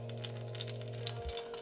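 Eggplant with finely scored peel frying in hot oil for Kyoto-style simmered herring and eggplant, a steady close sizzle with soft crackles throughout, with no talking.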